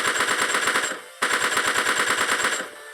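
Two sustained bursts of rapid automatic weapon fire in PUBG Mobile Lite, separated by a short pause, close and loud with evenly spaced shots.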